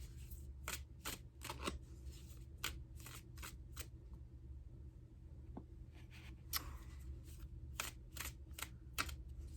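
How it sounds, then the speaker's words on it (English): Tarot cards being shuffled at close range in quick riffling bursts, a dozen or so sharp slaps spaced irregularly, with a quiet pause in the middle and no talk. "I'm going to Intuitive Goddess Tarot to pick some more cards."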